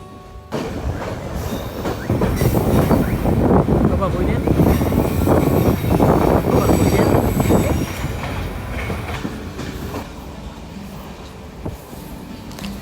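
A train rumbles steadily along the rails, loud and close, with rhythmic clatter that eases off toward the end; a voice is faintly heard over it from on board.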